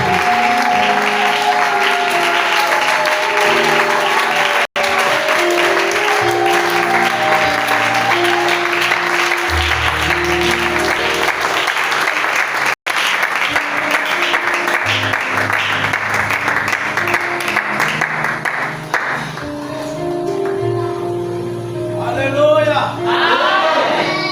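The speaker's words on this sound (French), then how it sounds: "Est-ce qu'on peut acclamer son serviteur?" A congregation at a church seminar cheers and applauds a minister amid loud music and voices, a long, dense crowd sound that stays strong before thinning near the end.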